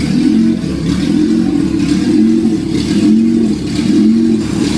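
A dragster engine idles and revs continuously to warm up, a loud, steady mid-pitched drone with gentle periodic swells, alone without talk.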